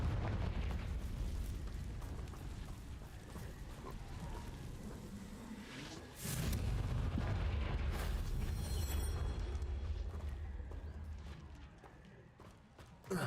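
A Confringo fire spell explodes in Hogwarts Legacy, a sudden loud burst midway through a steady rumbling game soundscape, followed by a sustained roar that fades toward the end.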